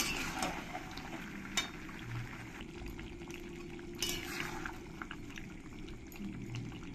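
Chicken and garlic frying uncovered in a pan while being cooked down for chicken dopeaza: a steady bubbling sizzle runs throughout, with occasional clinks and scrapes of a utensil against the pan.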